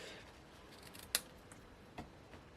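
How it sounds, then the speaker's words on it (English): Scissors give a crisp snip through paper ribbon ends, followed by a second softer snip, both sharp and close in an otherwise quiet room. "Let me get a better pair of scissors to snip those ends."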